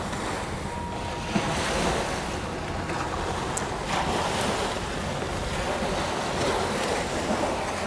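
Waves wash steadily onto the Elbe beach at high tide near Hamburg, a continuous broad surf roar mixed with wind noise buffeting the microphone.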